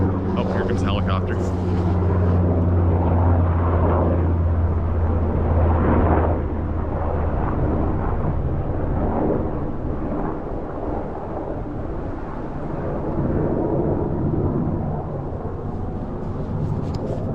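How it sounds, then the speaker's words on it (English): A helicopter passes overhead outdoors, its loud, rumbling rotor and engine drone filling the scene continuously with a slow swell and fade, while someone talks over it. "oh, here comes a helicopter"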